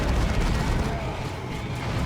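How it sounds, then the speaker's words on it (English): A plasma cannon fires in a Dawn of War 2 3v3 match, a dense, rumbling blast that fills the whole moment amid constant battle noise. "Wow, that was a nice plasma cannon shot."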